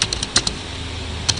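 Quick keystrokes on a computer keyboard while typing a document in Microsoft Word, a short cluster of crisp close clicks, a pause, then one more tap.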